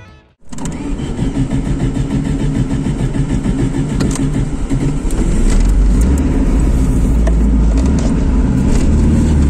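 Very old, shabby car on a rough mountain road to a lake in Kyrgyzstan, its engine catching after a brief silence and then running in a loud, steady rattling drone that grows heavier near the end.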